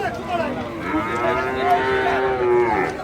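A single long, drawn-out Friesian cow moo with a steady harmonic tone, loud and close, lasting about three seconds.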